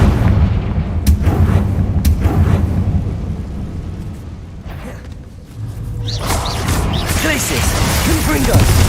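A Confringo fire spell in the Hogwarts Legacy game sets off loud, booming explosions, several heavy blasts with crackling debris and a continuous rumble underneath.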